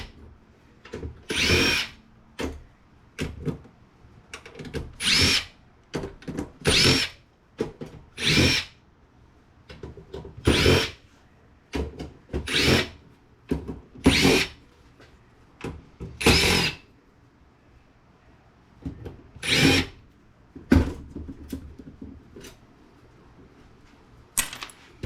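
Power drill whirring in repeated short bursts while backing screws out of a Tripp-Lite server switch being scrapped, close and loud, with clinks of loose screws between runs and no talking.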